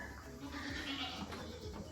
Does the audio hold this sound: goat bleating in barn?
yes